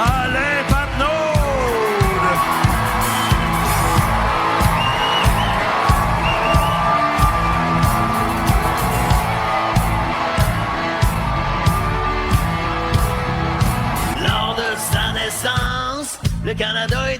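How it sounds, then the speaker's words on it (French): Crowd at a live band concert in Waterloo cheering, whooping and applauding for the creator of the evening's songs, a loud continuous roar with shouts over a pulsing background, some tonal sounds rising near the end. "je veux un torrent d'applaudissements pour le père de toutes les créations que vous allez entendre ici ce soir"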